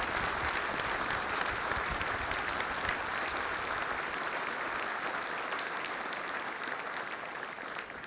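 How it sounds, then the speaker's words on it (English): Sustained applause from a ceremony audience at a military change-of-command event, a broad, even wash of many hands clapping that holds steady for about eight seconds before easing slightly, heard from a moderate distance. "please join me in a round of applause for Maggie."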